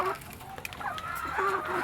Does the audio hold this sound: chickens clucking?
yes